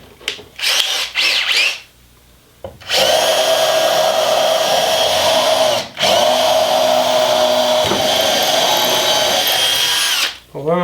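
A Bosch GDR 18V impact driver drives a screw into wood pre-drilled with a 5 mm bit, giving a loud, close, sustained whirring hammer that runs for several seconds, briefly breaks, then resumes, after a short spoken bit at the start.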